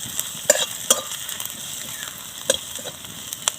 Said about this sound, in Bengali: রসুনটা একটু ভাজা ভাজা করে নেবো আগে